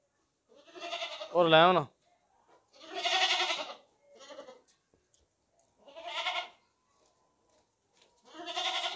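A stout, tall male goat bleats loudly at close range with a wavering, quavering cry, while someone speaks in short phrases before and after it.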